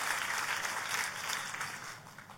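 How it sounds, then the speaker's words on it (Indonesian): A church congregation applauds, a soft, diffuse patter of many hands clapping that holds steady and then gradually fades, heard from a little distance with no voices. "Boleh sekali lagi kasih tepuk tangan yang paling meriah?"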